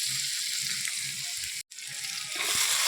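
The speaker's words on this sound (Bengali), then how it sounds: "কালো জিরা ফোড়ন দিয়ে পেঁয়াজ টমেটোটা ভাজলাম" Onion and tomato frying with black cumin seasoning in a pan, a steady close sizzle and crackle that fills the whole stretch, with a very brief drop to silence near the middle.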